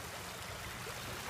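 Steady rushing of river water at a confluence where two rivers meet, a continuous close, even flow with no speech.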